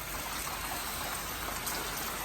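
Rain falls in a steady, dense hiss of drops on surfaces near a 2012 Dodge Charger being worked on, continuous and fairly close with no voices.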